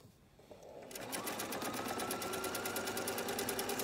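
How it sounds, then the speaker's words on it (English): Sewing machine stitching two table runner pieces together, starting after a quiet moment and then running continuously with a fast, even rattling rhythm, close to the microphone. "Sew this off."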